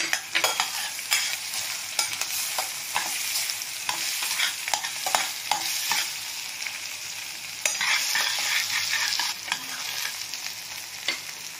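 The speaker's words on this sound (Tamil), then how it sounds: "வெங்காயம் வதங்கிட்டு இருக்கும்போதே மிளகாய் சேர்த்துக்கலாம்" Sliced onions and chili sautéing in a pan for a Tamil non-veg gravy, a steady loud sizzle broken by repeated scraping stir strokes of a spoon against the pan, close and continuous with no talking.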